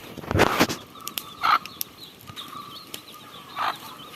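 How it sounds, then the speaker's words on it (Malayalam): Scattered clucks and soft chirps from poultry, short calls spaced irregularly over a faint background hiss, moderately close. "കോഴിയും കോഴിക്കുഞ്ഞുങ്ങളും."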